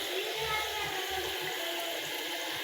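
Water pours and splashes with a steady, fairly close rushing noise while a voice talks faintly underneath.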